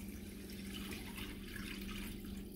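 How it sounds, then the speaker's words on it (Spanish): About half a litre of water is poured into a cooking pot of blended tomato sauce for stuffed chiles, making a steady, faint splashing pour that carries on throughout with no talking. "Aquí le voy a agregar medio litro de agua."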